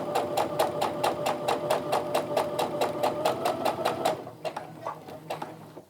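A sewing machine runs steadily stitching a curved quilt seam from fat-quarter fabric, a rapid even needle rhythm close up and loud for about four seconds, then slows into a few separate stitches before stopping.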